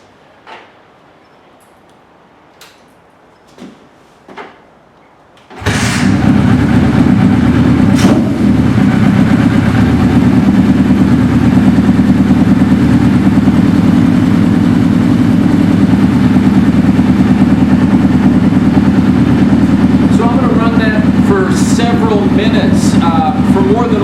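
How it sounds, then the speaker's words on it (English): A few faint clicks and taps precede a vintage motorcycle engine starting abruptly, then settling into a loud, steady idle with a low rumbling throb, while a voice speaks briefly over it near the end. "start the bike up and let it run a while and draw that fuel down into those carburetors"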